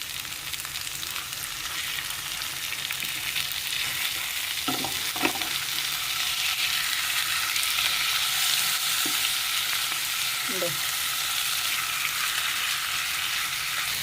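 Fish pieces fry in a masala-coated pan with a constant, moderately loud sizzle and crackle, broken by a few faint utensil taps and scrapes, and no voices.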